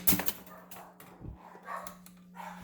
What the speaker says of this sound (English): Sorry about the noise in the background. My dogs are going crazy.